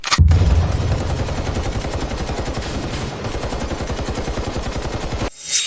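Rapid automatic gunfire rattles on in a film action scene, a dense, loud burst of shots that runs for about five seconds before cutting off abruptly.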